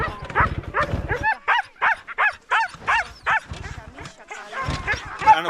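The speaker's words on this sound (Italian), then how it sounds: "Stanno attaccando i cani, Susa, ci siamo quasi." A team of seven sled dogs being hitched up, barking and yipping eagerly in a rapid, uneven string of loud, close yelps that overlap and pause briefly before bursting again.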